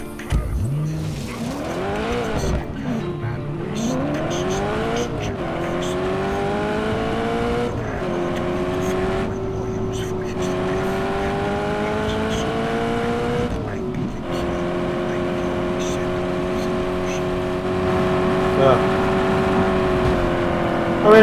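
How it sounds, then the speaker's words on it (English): A loud car engine roars and revs at high speed in Just Cause 3, pitch rising and falling through gear shifts, with tire squeal and racing-game style sounds. "I'm driving at super fast speeds in a car that's very loud"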